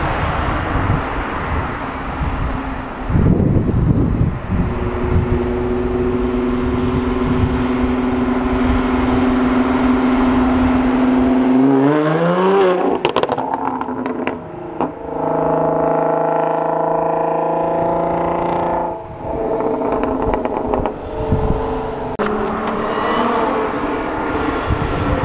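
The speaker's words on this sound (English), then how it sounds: "I'm gonna do a little flyby and just get a cool little exhaust clip of the car." An Audi car passes by in a flyby, its exhaust note rising and falling with pitch-sweeping harmonics, loud and close, swelling around the midpoint and continuing strongly after.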